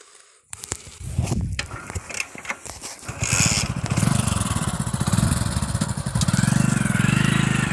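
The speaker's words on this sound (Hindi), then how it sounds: "अभी मोटरसाइकिल से लेकर के जाएंगे मुझे" A motorcycle engine starts up and runs close by, a rough putter of rapid pulses that steadies into a loud, continuous idle, with no talking.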